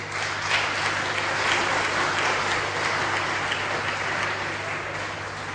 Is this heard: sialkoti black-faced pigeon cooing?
no